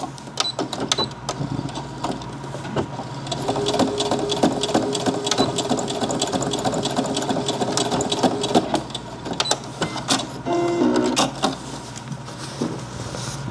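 A sewing machine stitching fabric for an apron, running in bursts of rapid mechanical whirring and clicking, close and fairly loud, with a sustained run in the middle and shorter starts and stops toward the end, no speech.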